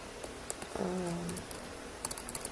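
Fingers tap on a computer keyboard in short, quiet clicks, with a few scattered keystrokes early and a quicker run of typing toward the end, over a faint background hum.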